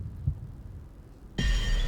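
Low, muffled heartbeat thuds from the video game Sky: Children of the Light, a deep pulse that gives way to a louder swelling rumble and wash of ambient game sound.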